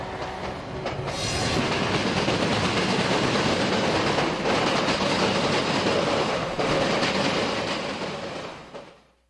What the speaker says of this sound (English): an eastbound Santa Fe freight rolls through